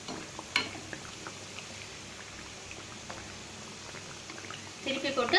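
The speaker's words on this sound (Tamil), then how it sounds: "திருப்பி போட்டு அந்த சைடும் இதே மாதிரி வேக வைங்க, சிம்லேயே வச்சு வேக வைங்க." Badusha sweets fry gently in hot oil over a low flame, giving a soft, steady bubbling with scattered tiny crackles that grow busier near the end.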